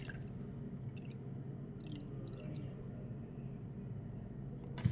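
Faint dripping and trickling as water poured over a paste is strained for pani puri, soft wet drops falling at close range.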